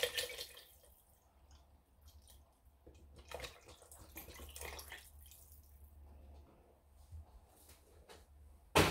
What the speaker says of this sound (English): then you can start putting in your milk